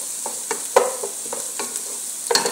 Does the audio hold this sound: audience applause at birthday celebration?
no